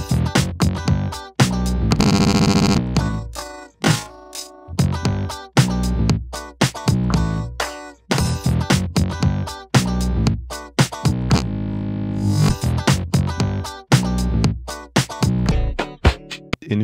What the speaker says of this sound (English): we can then play them back and apply performance effects with the black keys.